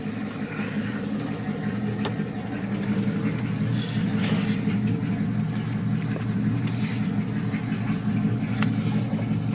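A 2001 Dodge Ram pickup with straight pipes and no catalytic converters or mufflers drives along, its raw, droning exhaust rumbling loudly and steadily, swelling a little partway through, with no one speaking.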